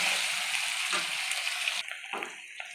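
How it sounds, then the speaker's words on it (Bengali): Thick potato pieces frying in a pan give a dense close sizzle that suddenly drops to a quieter, patchier crackle partway through. "আলুর থেকে ভালো করে আবার ভেজে নেবো।"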